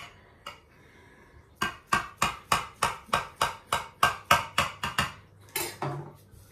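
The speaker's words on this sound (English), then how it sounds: "take a serrated knife. This is just a serrated steak knife." A serrated steak knife saws through a baked meatloaf on a board in a long, even run of about a dozen close, crisp strokes, each a short rasping scrape, with no talking.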